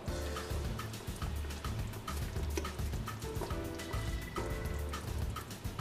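All-purpose seasoning shaken from a container into a cooking pot of jollof rice makes a steady, dense, maraca-like rattle of quick ticking grains that keeps going for several seconds at close range.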